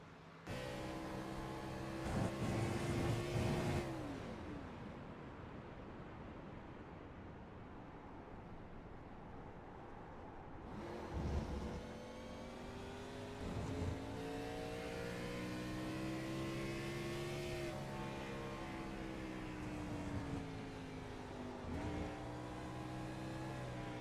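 Race car in iRacing at Silverstone, a loud, close engine wailing through repeated upshifts and downshifts with rising and falling pitch and brief clutch-linked dips, running continuously.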